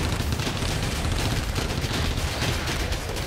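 Intense gunfire from both sides during house-to-house fighting between Ukrainian and Russian troops in the village of Klishchiivka near Bakhmut, a dense, continuous roar of overlapping shots and bursts with no clear pauses.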